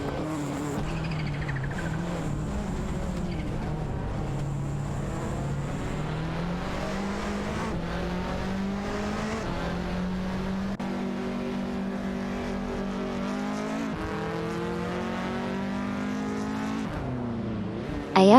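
Lancia Delta S4 and Lancia ACV race cars dueling in a racing game, engines droning and revving in rising and falling pitch sweeps, steady and close throughout.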